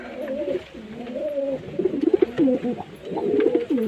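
Old-line Madras pigeons coo nearby in repeated throaty, warbling rolls, several overlapping phrases rising and falling continuously over a faint background hum.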